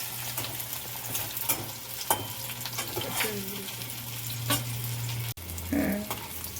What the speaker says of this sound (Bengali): আমি একটা একটা করে সব ছেড়ে দেবো, তেলের মধ্যে দিয়ে দেবো।